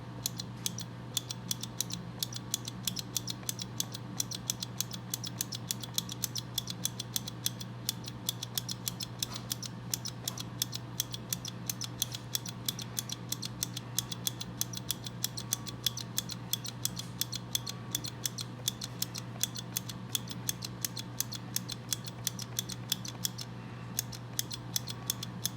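A hand tally counter clicks steadily in a fast, even rhythm while bacterial colonies are counted, close and crisp over a constant low hum, with no talking.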